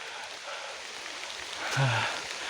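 Rain falls as a soft, even hiss on a mountain trail on Mount Pangrango, faint and continuous, with one brief low thump near the end and no talking.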